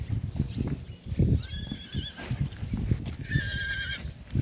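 An eight-month-old foal from Abakan whinnies twice in a yard in Bishkek. The two short, shrill, wavering calls stand out over rhythmic low thudding, like shifting hooves.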